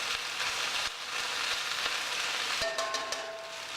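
Greens sauté in a hot pan with a steady, close sizzle throughout, followed near the end by a few light metallic clinks.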